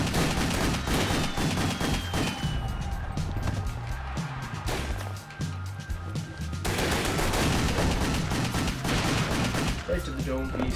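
Enemy gunfire in the action game Wet, rapid, loud bursts of shots and crashing impacts that keep going almost the whole time, with a brief lull midway, amid busy game sound.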